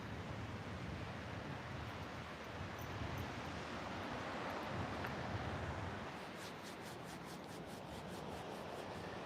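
Ocean surf rolls onto the beach at a San Diego oceanfront, a soft continuous wash of waves with some breeze noise, faint and steady throughout.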